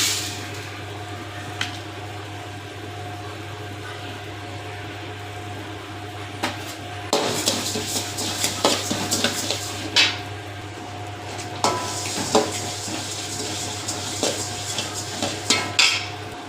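Cumin and whole spices dry roasting in a pan with no oil, heard as scattered scraping and clinking strokes of a spoon against the metal over a steady low hum, with denser bursts of scraping toward the end.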